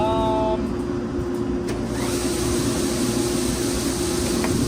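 A grain dryer fan runs on a Nebraska farm during harvest, producing a loud, steady broadband roar with a constant low hum that continues without a break.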